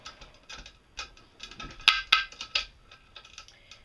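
A hand ratchet clicks in short irregular bursts while tightening the clamps on a canner lid, the pawl ticking crisply up close with a few louder snaps near the middle.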